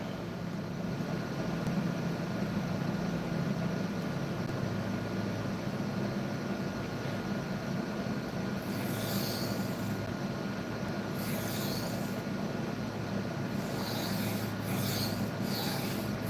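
A kitchen knife is being sharpened on a whetstone to raise a full-length burr, a steady continuous rasping rub that runs throughout with a few brighter strokes near the end, with no talking.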